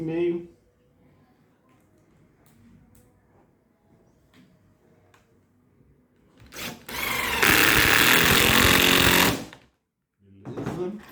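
A power drill boring holes for 45 mm screws in a piece of furniture: a loud, close whine burst of about three seconds after quiet handling clicks, then a brief second spurt, with speech in the background.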